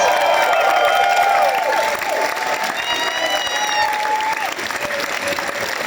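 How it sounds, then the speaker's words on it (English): Concert crowd at Huxleys Neue Welt in Berlin applauding a guitarist, with a dense, steady wash of clapping and cheering that holds loud throughout while a few sustained tones ring over it. "let's give him a big round of applause anyway"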